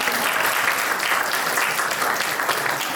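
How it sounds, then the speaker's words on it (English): An audience applauds at a public speaking talk, a dense, steady wash of clapping hands that stays loud and even for the whole stretch with no voices over it. "Give her a round of applause."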